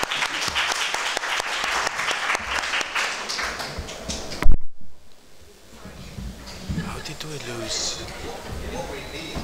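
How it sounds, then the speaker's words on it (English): Applause from a conference audience for a panel of speakers, loud and dense at first, then cut off abruptly and replaced by quieter room noise with talking. "Let's give a round of applause to our panelists."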